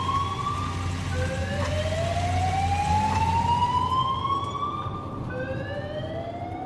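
A wailing ambulance siren rises repeatedly in long sweeping tones over a steady low engine rumble, loud and continuous.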